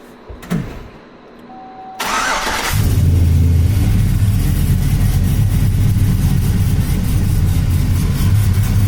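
A car engine starts after a brief quiet stretch and then idles steadily and loudly for the rest of the clip, close by, with no talk over it.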